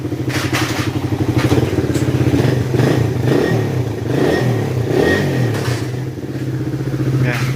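A motorcycle engine runs loud and close, revving up and down continuously with a rough, rattling idle throughout.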